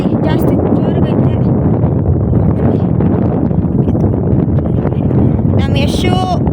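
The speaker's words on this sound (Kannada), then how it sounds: "ಗಾಳಿ ಜಾಸ್ತಿ ಜೋರಾಗೈತೆ" Strong wind batters the microphone outdoors at Bannerghatta zoo, a loud continuous rumbling buffet that never lets up, with people talking faintly through it.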